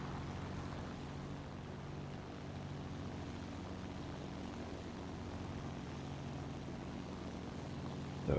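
A propeller-driven XP-38G fighter drones steadily in War Thunder, its engine tone holding constant and moderately loud for the whole stretch with no talk over it.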